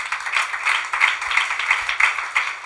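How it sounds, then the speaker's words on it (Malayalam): A church congregation claps for a visiting guest, a steady run of rhythmic hand claps from a modest crowd at moderate loudness. "അദ്ദേഹത്തിന് നല്ലൊരു ക്ലാപ്പ് കൊടുക്കും നിങ്ങൾ"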